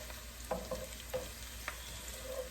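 Cumin seeds sizzle as a tempering in a paste frying in a pan, a soft steady crackle with a few brief stirring scrapes, fairly quiet and close, no voices.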